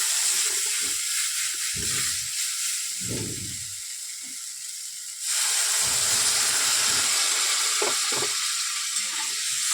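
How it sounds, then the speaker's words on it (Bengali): Water is poured into a hot pan of fried spices, including black cumin, while cooking a katla fish dish, giving a loud, steady steaming sizzle and hiss that jumps louder midway as it comes to a boil. "এবার আমি এটার সাথে মিশিয়ে দিলাম। এবার আমি জল দেবো।"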